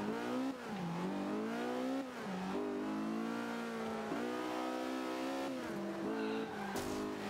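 Race car engine revving hard through repeated gear changes at Silverstone in Forza Motorsport 5 on Xbox One, loud continuous climbing pitch with brief drops at each shift, under faint commentary.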